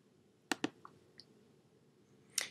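Sharp computer mouse clicks while saving settings in a web page editor: two quick close clicks, a few softer ticks, then another click near the end, alone in a quiet room.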